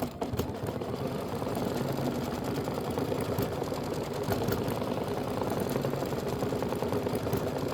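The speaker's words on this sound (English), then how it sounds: "Step 3 is stitch the abdomen tack down line." Sewing machine stitching an appliqué tack-down line for a quilt abdomen piece, a steady fast mechanical whirring and rapid needle chatter running continuously and fairly loud throughout.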